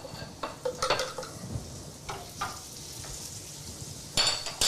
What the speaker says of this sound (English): we're going to add just a little pat of butter.